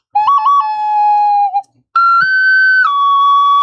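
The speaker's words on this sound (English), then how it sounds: "this is a friscaletto, which is like a Southern Italian whistle, and it's a 9-hole whistle" Friscaletto, a Southern Italian nine-hole whistle, playing clear, bright sustained notes with a few quick ornamented trills and a short pause between phrases.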